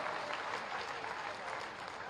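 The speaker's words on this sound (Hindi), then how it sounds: "एक बार ताली तो बता दीजिए" Steady, dense applause from a large crowd at a political rally in Shravasti, Uttar Pradesh, sustained evenly and loud throughout with no break.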